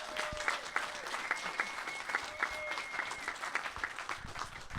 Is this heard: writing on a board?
no